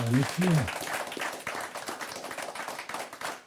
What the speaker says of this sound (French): Jarno, on peut applaudir.